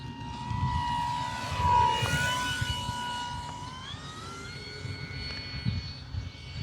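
An E-flite F4U-4 Corsair V2 RC plane, a 1.2 m electric model on a 4S 2200 pack, whines at low throttle around 15%, a steady tonal motor hum that rises slightly in pitch partway through, fairly close over outdoor background noise.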